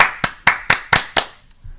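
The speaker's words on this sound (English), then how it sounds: "You start clapping." Hands clapping at a football match, heard as six sharp, evenly spaced claps about a quarter second apart, close and loud, with a faint seventh clap trailing off at the end.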